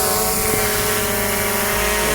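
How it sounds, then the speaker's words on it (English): A DJI Mavic Air 2 drone passes overhead with a loud, steady propeller whine and buzz that stays constant and close throughout. No speech is heard. "The drone just moves over me."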